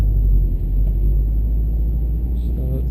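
A 2013 Subaru WRX STI sedan with a COBB Stage 1 tune, in second gear, gives a loud, steady low engine rumble throughout, heard from inside the car with no talking.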